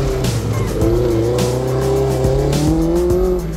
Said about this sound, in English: So today we're just doing some demonstrations here in the parking lot, really just having some fun driving the cars around.